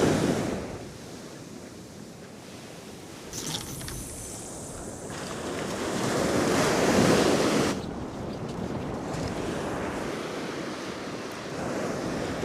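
A light offshore westerly wind of about 5 to 6 mph on a Northumberland beach at low tide, a steady rushing wash of breeze and distant surf that swells louder midway, with no voices.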